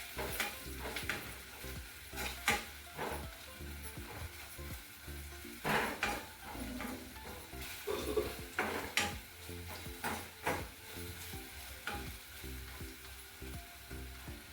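Malvani fish curry masala is sautéed with salt in a pan: a soft sizzle runs under repeated scraping and clinking stirs of a utensil against the pan, with louder strokes every second or so.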